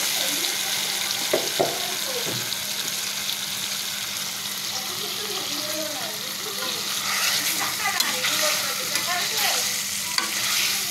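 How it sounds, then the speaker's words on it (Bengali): Cut hilsa fish pieces going into a hot pan of ground spice paste for a Bengali fish curry, sizzling steadily with stirring scrapes throughout. "আমি এতে দিয়ে দিব কেটে ধুয়ে বাছে রাখা ইলিশ মাছগুলো।"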